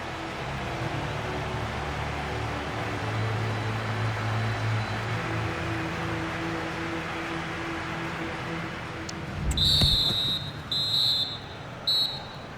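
A referee's whistle blows for half-time in the EA Sports FC 25 football video game, three shrill blasts, one long and two shorter, cutting through a steady crowd-like background hum.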